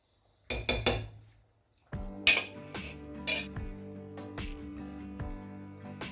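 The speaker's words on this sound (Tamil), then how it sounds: "நம்ம இப்போ அரிசி போட்டுக்கலாம்." Soaked rice added to a pot of pressure-cooked mutton for Dindigul-style biryani: a few sharp metallic clinks and scrapes, then a steady low hum with occasional utensil taps, close and fairly quiet, without talk.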